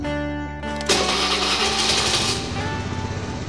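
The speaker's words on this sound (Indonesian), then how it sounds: "kalau kalian ingin dengar suara mesinnya" A Honda Spacy Fi scooter cranks with a short starter whir, then catches and settles into a steady, close, buzzing idle that carries through to the end.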